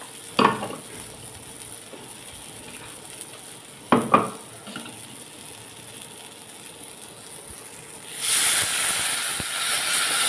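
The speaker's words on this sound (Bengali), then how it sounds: "একটু তেলে কালো জিরে দিয়েছি, নেড়ে নিচ্ছি" Nigella seeds crackle and sizzle in a little hot oil as they are stirred, with a couple of sharp scraping knocks early on and a steady frying hiss swelling louder toward the end.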